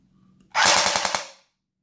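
Rapid full-auto burst from a CYMA Colt CM.128 airsoft electric pistol, a loud mechanical rattle of about eight quick shots lasting under a second, close to the mic and heard alone after a brief quiet.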